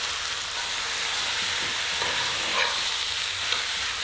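Beef and onions sauté in a frying pan for beef pares, a steady broadband sizzle with faint stirring scrapes throughout, close and continuous with no voices.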